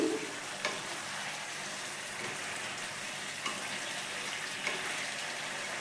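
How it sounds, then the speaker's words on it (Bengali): Chicken and onions cook in a pan in their own released juices, giving a soft, steady, fairly quiet sizzle with a few faint scrapes of stirring. "এবার আরেকবার নাড়িয়ে দিচ্ছি"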